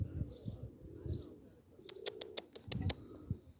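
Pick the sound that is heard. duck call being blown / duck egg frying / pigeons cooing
pigeons cooing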